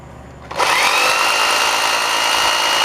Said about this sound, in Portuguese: Eu vou ligar a furadeira